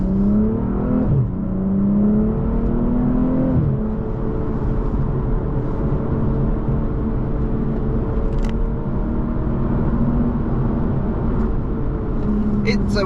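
A BMW G42 M240i engine revs up in rising pitch, drops briefly at a gearshift, then climbs again and holds a steady strained drone, loud and close.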